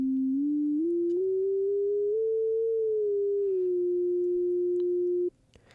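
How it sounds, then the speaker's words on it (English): Pure sine wave tone generated in a Max programming patch, a steady close electronic hum gliding upward in small steps then settling slightly lower before cutting off abruptly. "So that's given us a little bit more control of our sine wave."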